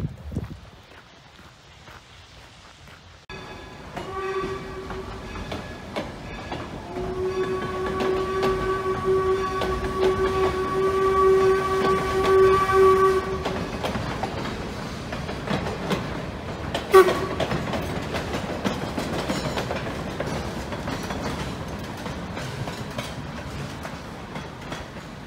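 A coal-burning steam train on a heritage railroad rolls past a grade crossing, close and loud, with a long steady whistle and horn-like tones over rumbling wheels and rhythmic clatter, plus a sharp bang near the end.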